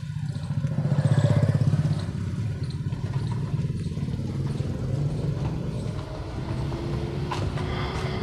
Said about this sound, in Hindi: रोड छोटी है, आगे ट्रैक्टर आ रहा है